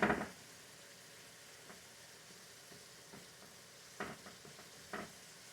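Frozen vegetables sizzle faintly in a pan, a soft, steady frying hiss with a few scattered stirring scrapes and clinks, quiet and close with no talking.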